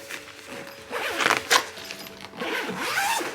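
A zipper pulled open along a telescope carrying bag with a Velcro top, giving a couple of quick, close rasping bursts amid soft handling rustle.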